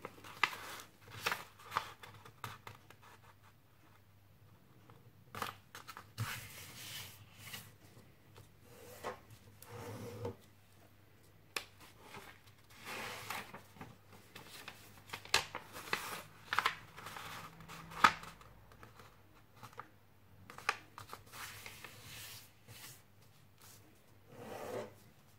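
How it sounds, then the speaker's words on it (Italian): A sheet of paper being folded horizontally and vertically for a simple origami box, with soft creasing, rubbing and rustling strokes in irregular bursts, close and quiet. "Apriamo il foglio, dobbiamo effettuare una piegatura orizzontale e una verticale."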